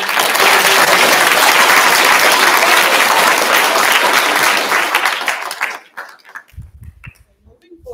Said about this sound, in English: Once again, let's give a round of applause for everything.